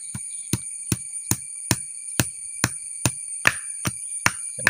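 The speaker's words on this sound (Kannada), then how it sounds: "ಇವಾಗ ಇದನ್ನು ನಾವು ಮೊದಲು ಚೆನ್ನಾಗಿ ಕಲ್ಲಲ್ಲಿ ಕೊಟ್ಟಿ ಪುಡಿ ಮಾಡಿಕೊಳ್ಬೇಕು" Stone mortar pounding black pepper, cumin and ginger into powder: about a dozen sharp, evenly spaced thuds close by, each a hard stone-on-stone knock, with no talk.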